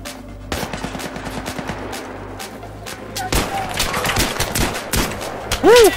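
Gunfire from snipers and other weapons in the video game Battlefield 3, with loud overlapping shots and rapid bursts cracking in quick succession, growing denser and heavier toward the end.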